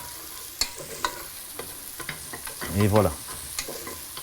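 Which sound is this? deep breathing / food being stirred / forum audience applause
food being stirred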